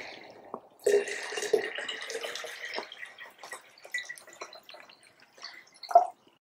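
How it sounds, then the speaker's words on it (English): Tap water splashes and trickles into a jar in uneven bursts, with a brief gurgling splash near the end; close and fairly quiet. "we'll fill the rest of this jar up with water,"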